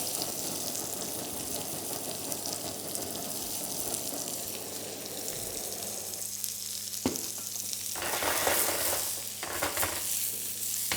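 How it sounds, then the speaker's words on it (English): A blowtorch browns mushrooms on a plate, giving a continuous roaring hiss that thins out partway through and returns in brief bursts near the end. "I'm also going to go in with a bit of a blowtorch as well, just to colour up a bit of those mushrooms"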